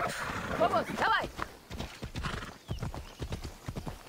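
Horse galloping and neighing in Assassin's Creed Odyssey: rapid rhythmic hoofbeats run throughout, with a loud whinny early on, while someone talks over the game audio.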